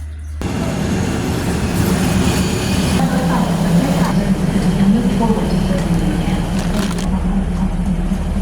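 Steady rumble of a passenger train rolling toward Lampang in Thailand, heard from inside the carriage, with low continuous wheel and engine drone and faint background chatter of passengers throughout.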